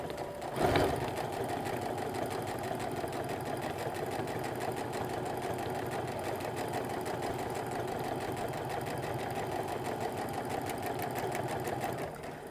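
A sewing machine runs steadily for about twelve seconds, stitching an apron seam an eighth of an inch from the edge. The close, even mechanical whir holds without pause, opening with a brief knock as it starts, and no one talks.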